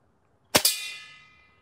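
A bolt from a 210 lb compound crossbow slams into a riot shield, giving a sharp double crack followed by a bright metallic ringing that decays over about a second, loud and close with no talk.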